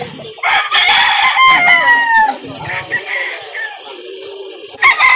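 Roosters at a chicken farm in Calauan, Laguna crow loudly and close, with overlapping calls and clucking from other fowl, while someone talks in the background.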